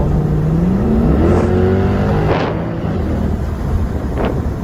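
A Mercedes C63 AMG with a 6-litre engine in sport mode revs and accelerates hard, its rising engine note climbing loudly up through the gears amid buffeting wind noise.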